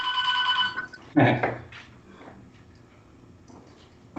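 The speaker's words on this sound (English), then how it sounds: "Perhaps interrupted by his own phone" A mobile phone rings with a steady, repeating electronic tone during a darts match. It sounds at moderate loudness for about the first second. A sharp thud follows, then quiet room ambience with faint scattered sounds.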